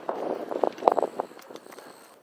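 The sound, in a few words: strong sea wind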